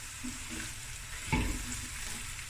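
Oxtail fried rice sizzles steadily in a pan, a continuous close frying hiss with one brief louder scrape of stirring partway through.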